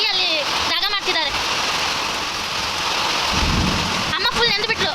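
Heavy rain pours down steadily in a loud, continuous roar with low rumbling thunder building partway through, while voices break in briefly at moments over the downpour.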